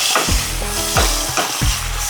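Ginger, garlic, onion and tomato frying in a pan: a steady loud sizzle with three rhythmic scraping stirs about every two-thirds of a second, close up, no voices.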